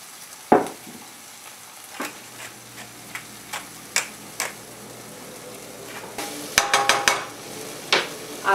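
Mushrooms dusted with flour cooking in a pan give a steady low sizzle with scattered clicks and sharp scrapes as they are stirred, louder bursts of scraping near the end, no talk.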